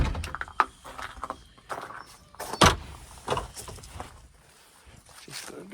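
An SUV door is pulled shut with one loud, sharp thud near the middle, set among scattered rustles, knocks and handling sounds close by.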